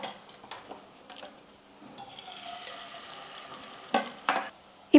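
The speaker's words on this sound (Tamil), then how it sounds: "வெண்ணெய் நல்லா உருகுனதுக்கப்புறமா நம்ம ரெடி பண்ணி வச்சுருக்கிற இந்த முட்டையை வந்து பாதி அளவுக்கு சேர்த்துக்கிறேன்" Beaten egg sizzles in a buttered pan for a street-style bread omelette, a soft steady frying hiss with light crackles under a few loud clinks of a utensil against the pan.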